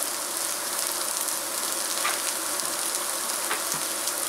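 Onions frying in a pan give off a steady, dense sizzle, close and even throughout, with a couple of faint pops rising out of the hiss.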